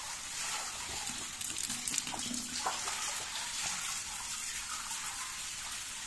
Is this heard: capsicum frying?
no